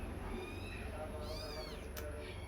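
Newborn kittens meow in a house, a few thin high cries rising and falling over a low steady hum, faint and close.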